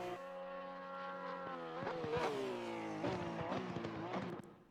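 A Porsche 911 GT3 R engine in the Assetto Corsa Competizione racing game revs high and then drops through several sharp downshifts with crackles, a steady loud note under a voice.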